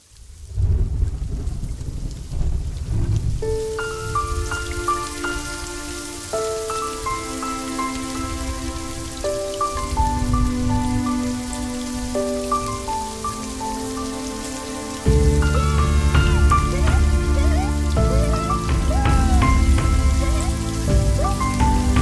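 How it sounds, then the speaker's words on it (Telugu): Steady rain falls throughout, a continuous broad hiss under louder melodic music that swells in the second half, with no talking. "వర్షం ఆగిపోతుంది, మబ్బులు వెళ్ళిపోతాయి"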